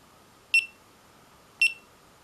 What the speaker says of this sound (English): beep, beep, beep, beep, beep. And then it's off